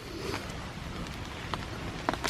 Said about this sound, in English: As the rain splatters down on our tarp.